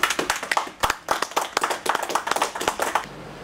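A church congregation applauds after a sermon with loud, dense clapping close by, many hands striking in a quick irregular patter throughout, easing slightly near the end.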